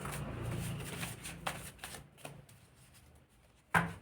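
Tarot cards being shuffled, a soft papery riffle and rustle that runs through the opening seconds and then fades, ending in a brief sharp snap of the deck near the end.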